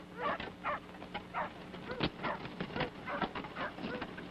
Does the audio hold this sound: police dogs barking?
yes